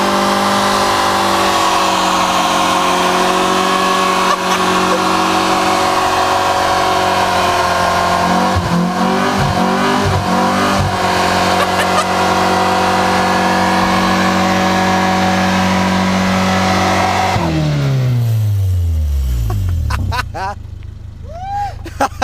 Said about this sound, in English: Now that was a burnout.